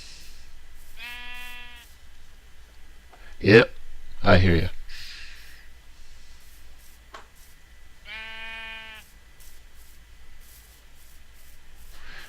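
Sheep in a video game bleating twice, each a short wavering cry spaced several seconds apart, with brief rubbing and scraping noises between them and someone talking once.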